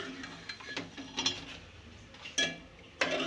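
Chicken being stirred into oil in a pot for chicken nihari: scattered close scrapes and clinks of a spoon against metal, a few sharper knocks, over a low background hum.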